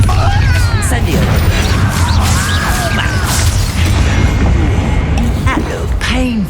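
Confringo and Incendio spell blasts in Hogwarts Legacy, loud overlapping booms, crashes and whooshes of magical combat with shouting voices mixed into the constant din.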